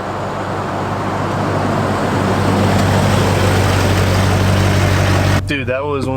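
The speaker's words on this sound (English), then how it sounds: "that was one of the nastiest burnouts I've ever seen you do" A car doing a burnout gives a loud, sustained engine roar with a low droning hum that holds for over five seconds, then cuts off abruptly as a voice starts speaking.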